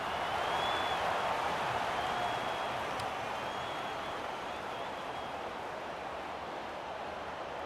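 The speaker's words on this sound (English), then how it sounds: "The crowd already making plenty of noise as the captains come together." A large crowd roars steadily in a big open stadium before an Australian rules football match, a continuous wash of cheering and noise with no single voice standing out.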